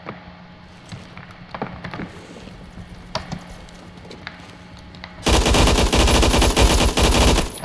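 AUG HBAR rifle in Phantom Forces fires sparse scattered shots at first, then a loud sustained burst of continuous automatic fire fills the last couple of seconds.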